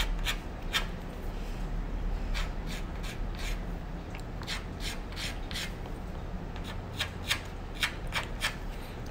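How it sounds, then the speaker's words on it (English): Chalk held lightly glides slowly over a chalkboard, a close, soft scraping rub with a run of faint light taps as strokes start and lift, heard alone without talk. "I'm holding the chalk really lightly. I'm just slowly gliding over the board."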